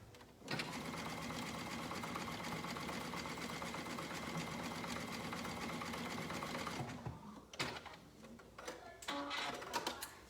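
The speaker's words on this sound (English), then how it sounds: "I'm stitching it over the elastic." A sewing machine stitches a swimsuit over its elastic, running steadily and close for several seconds, then stopping and starting in a few short bursts.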